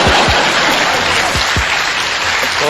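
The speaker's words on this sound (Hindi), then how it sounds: "और अब आपकी तालियां उठेंगी" An audience at a Hindi comic poetry gathering claps steadily in a dense, continuous burst close by, with no voices over it.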